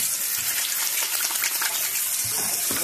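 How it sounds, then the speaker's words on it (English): Steady broadband rush of tap water running into a sink during handwashing, continuous and fairly close for the whole stretch, with faint splashy variations and no talking. "I'm gonna wash my hands."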